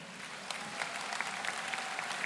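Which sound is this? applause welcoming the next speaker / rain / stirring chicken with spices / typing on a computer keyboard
applause welcoming the next speaker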